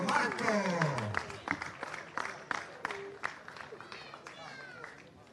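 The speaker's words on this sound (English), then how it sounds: "Big cheer for Marco." A crowd at the EFRA 1/8th nitro buggy Euros finals claps and cheers for an RC buggy racer. Scattered applause and whoops fade from loud to moderate over a few seconds while an announcer talks over it.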